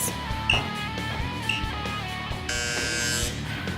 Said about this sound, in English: I have my Tabata interval timer